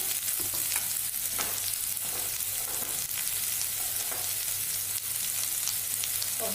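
Sliced onion with green chillies sautés on medium flame in a pan, a continuous close sizzle with occasional stirring scrapes, steady and fairly loud throughout, no voices.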